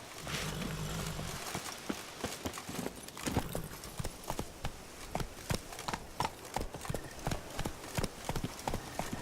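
Roach the horse from The Witcher 3, Blood and Wine expansion, gallops with crisp, regular hoofbeats that hold steady and close, over faint background game ambience.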